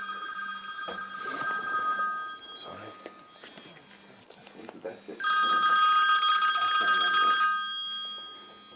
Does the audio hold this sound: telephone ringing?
yes